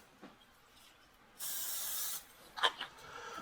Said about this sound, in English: But I'm going to spray the top again.